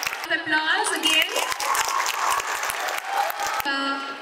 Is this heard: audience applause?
yes